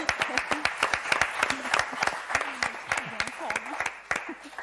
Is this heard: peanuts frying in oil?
no